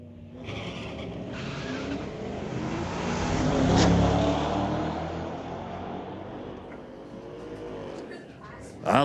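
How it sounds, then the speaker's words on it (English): A Mustang and an S10 pickup drag race at a street-legal night drag strip, their engines roaring, swelling to a loud peak as they pass and then fading into the distance. "Little Mustang racing the S10."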